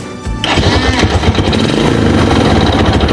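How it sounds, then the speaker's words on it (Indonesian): A Yamaha NMAX scooter engine cranks and fires up, then settles into a loud, steady low idle heard up close. "Mesin saya nyalakan ya"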